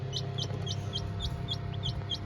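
Newly hatched chicks peep in a quick, regular series of high chirps, about eight in a row, over the low steady hum of an incubator.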